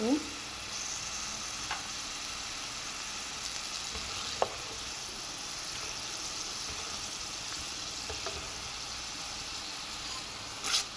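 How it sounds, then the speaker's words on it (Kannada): Peanuts frying in a pan over low heat for coriander puliyogare, a steady soft sizzling hiss with a few faint clicks and scrapes, close and fairly quiet, no voices. "ಕಡಲೆ ಬೀಜ ಹಾಕ್ಕೊಂಡು ಒಂದು ಎರಡು ಮೂರು ನಿಮಿಷ ಫ್ರೈ ಮಾಡ್ಕೋಬೇಕು ಸಿಮ್ಮಲ್ಲೇ"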